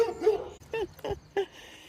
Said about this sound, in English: Yes, the dogs are out again.